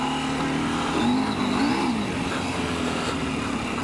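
A KTM 790 Adventure R motorcycle revving on a snowy ride, engine note rising and falling in short throttle blips, heard at moderate level alongside wind and road noise.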